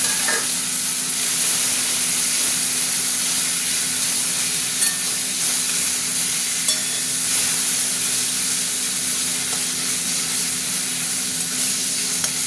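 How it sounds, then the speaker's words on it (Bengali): Chopped onions fry with boiled tomato in a pan, giving a steady, close sizzle and hiss with stirring scrapes, continuous and fairly loud throughout with no voices. "পেঁয়াজটা ভাজা ভাজা হয়ে গেছে, সিদ্ধ করা টমেটোটা দিয়ে দিলাম।"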